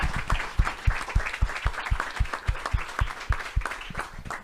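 Audience applause at a spring partnership meeting thanking local fire departments, a steady patter of many hands clapping with sharp individual claps standing out, moderately loud and continuous with no talking.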